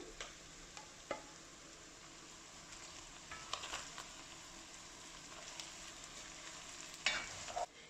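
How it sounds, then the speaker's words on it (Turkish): Soft, steady sizzling of peppers sautéing in a pan with occasional scraping stirs and light clinks, fairly quiet and close. "biberlerle de yaklaşık bir 5 dakika daha sotelemeye devam ediyorum"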